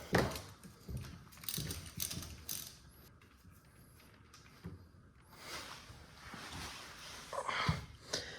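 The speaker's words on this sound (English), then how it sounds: "We need a 14mm socket and a ratchet. Now the bolt we need to undo to get the oil out is right here." A ratchet with a 14mm socket works on the oil drain bolt of a KX motorcycle, giving quiet bursts of clicking ratchet strokes with pauses between, close but faint, with no talk.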